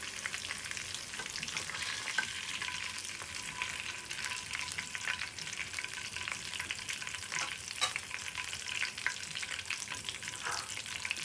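A slice of fish fries steadily in a pan of oil for a fish curry, giving a dense, even sizzle with faint pops and stirring noises throughout and no voices.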